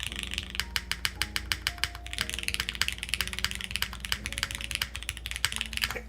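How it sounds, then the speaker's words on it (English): Rapid, irregular clacks come from typing on an O-ring mounted Zoom64 mechanical keyboard, close and crisp, with soft tonal music playing underneath and no talking. "We'll do some more typing here."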